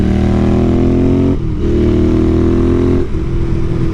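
A Royal Enfield Continental GT with a TEC 2-into-1 exhaust revs loudly and close, a deep throbbing engine note that dips briefly twice as the throttle is blipped between sustained pulls.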